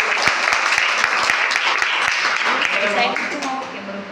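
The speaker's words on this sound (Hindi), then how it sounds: "जोरदार तालियां, इससे भी जोरदार।" Crowd applause, strong clapping with sharp individual claps that gradually fades as a voice begins speaking toward the end.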